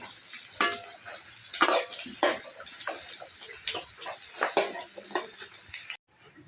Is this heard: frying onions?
yes